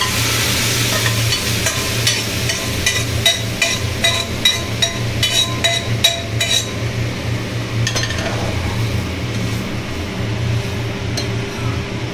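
Boiled dal poured into a tadka with chopped egg, then stirred in a pan. Continuous sizzling and frying run throughout, with frequent close metallic clinks of the spoon against the pot.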